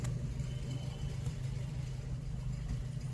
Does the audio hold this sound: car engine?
yes